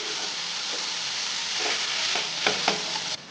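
Spice filling mixed with sugar and lemon juice, soft scraping stirs ending in a couple of sharper taps against the bowl, close and quiet under a steady hiss.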